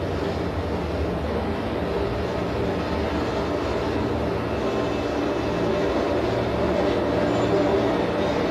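A train in Japan gives a steady, even rumble and rolling noise at a constant level for several seconds, with no clear horn or individual clanks.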